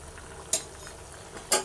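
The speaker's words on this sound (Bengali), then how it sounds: "ঝোলের মধ্যে দিয়ে দেওয়ার পরে দু তিন মিনিট মতো আমি একটু ফুটিয়ে নেব" Brinjal kofta curry gravy simmering in a pan, a soft continuous bubbling hiss with two brief louder clinks or stirs standing out near and clear.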